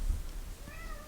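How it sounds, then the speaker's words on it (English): A house cat meows at a door it has been banging on, a short, faint, rising cry over low room rumble, alone with no talking. "can you hear the cat banging on the door?"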